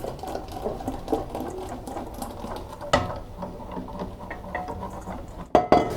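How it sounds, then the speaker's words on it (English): A whisk works steadily through a milk and egg mixture in a pot, giving a continuous close scraping and sloshing patter with a couple of sharper knocks against the pot. "and continue whisking in the pot."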